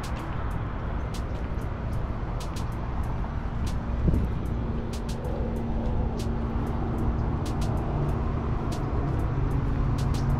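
Cars roll into a school parking lot at San Ysidro Adult School, making a steady, fairly loud rumble of passing vehicles with scattered sharp clicks and ticks on top.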